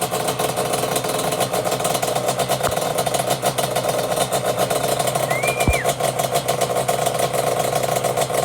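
A ported Yamaha Banshee two-stroke engine with a freshly installed top end idles loudly and close by, giving a steady rapid burble that holds throughout with no talking.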